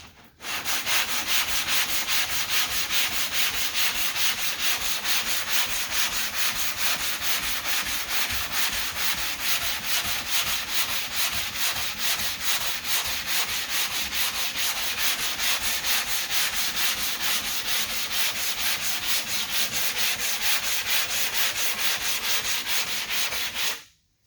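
Bondo filler on a car body line being block sanded by hand with a long flat block, a loud continuous rasping scrape in quick, even strokes that runs unbroken for over twenty seconds with no talking.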